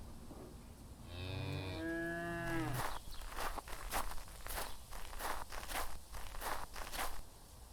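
Cows mooing on a farm in the video game Joyfess, two drawn-out moos close by followed by a rhythmic series of crunching footsteps walking across the ground.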